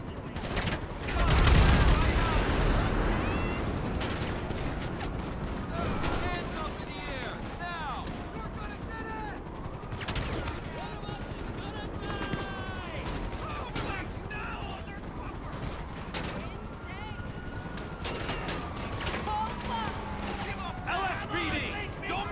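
Gunfire from GTA Online, with rapid bursts and crackling shots mixed with explosion-like rumbles, sustained throughout, while a voice talks over the game sounds.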